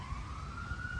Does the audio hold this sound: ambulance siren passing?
yes